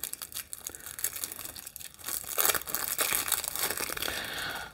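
A sharp knife slicing through the card and plastic packaging of a Marvel Champions Mutant Genesis card game expansion, crinkling and tearing scrapes that build louder and more continuous toward the end.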